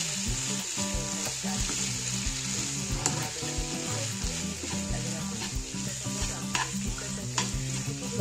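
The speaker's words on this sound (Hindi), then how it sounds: "इसे धीरे धीरे हम चलाते रहेंगे और ये अच्छे से बन जाएगा।" Masala pasta stirred in a frying pan gives a steady, close sizzle with soft scraping throughout, while stepped musical tones play underneath.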